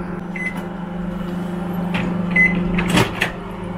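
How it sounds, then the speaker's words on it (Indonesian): Microwave oven warming a portion of rice for about a minute in a home kitchen, a steady close hum running throughout with a few faint clicks and clunks on top. "kita mau panaskan di microwave ya"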